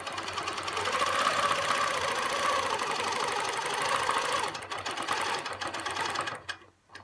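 A longarm quilting machine stitches clamshell curves guided by a ruler on a ruler base, giving a steady, close mechanical hum and rapid needle rattle that fades and cuts out near the end.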